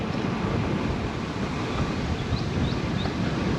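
Strong, steady wind roars across the microphone of a cyclist riding a carbon-wheeled road bike on Houston streets toward West Lake Houston Parkway, a loud, unbroken broadband rush with no voices.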